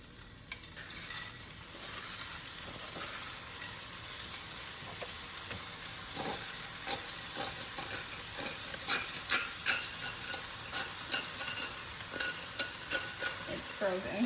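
Frozen cauliflower for cauliflower chicken fried rice stirred in a hot pan, a steady close sizzle and hiss of frying with repeated scraping stir strokes growing more distinct toward the end, no talking.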